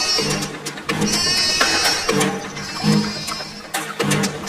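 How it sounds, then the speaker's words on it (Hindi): A goat bleats loudly and repeatedly in wavering cries, close by, with short pauses between calls and no talking. "ये आवाज कहाँ से आ रही है? लगता है कोई बकरी फंस गई है"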